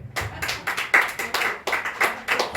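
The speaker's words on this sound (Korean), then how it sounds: "박수 한번 주세요" Clapping from a small church congregation, a few pairs of hands striking at once in a loose, quick rhythm of sharp claps that keeps going without let-up, near and fairly loud with no voices over it.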